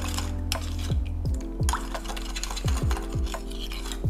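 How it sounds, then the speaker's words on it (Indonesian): A spoon stirs a sauce mixture with a teaspoon of sugar for glass noodles with shrimp, giving steady rubbing, scraping strokes in a regular rhythm, close and moderately loud, with no voices. "Sekarang kita tinggal aduk."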